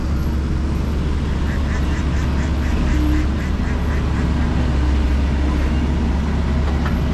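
Ducks on the Kali Gabus river beside a main road in Tambun, Bekasi, give runs of repeated quacks in the middle of the stretch, over a steady low rumble of engines and traffic.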